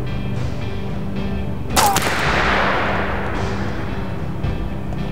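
A single loud gunshot from the video game This War of Mine cracks out and rolls into a long booming echo that fades over a couple of seconds, against a steady hum with no talking.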